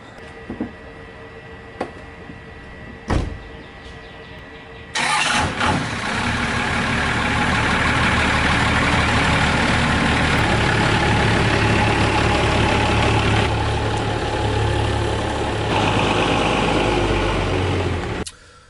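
A 1970 Dodge Charger cranks and fires into a loud, steady idle on an early morning outdoors, the deep rumble running for over ten seconds after a few faint clicks and thumps.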